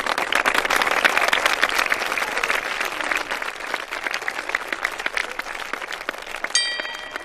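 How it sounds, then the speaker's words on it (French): Sustained applause from a crowd, dense clapping throughout that stays steady and fairly loud before easing slightly near the end. "Et on applaudit."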